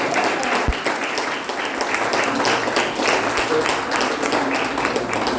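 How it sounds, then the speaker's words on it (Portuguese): A church congregation claps hands in praise during a worship service, a dense, steady wash of many hands with a loose rhythmic pulse, close and continuous, with voices faintly mixed underneath. "a igreja do Senhor exalta o Senhor com suas palmas em nome de Jesus"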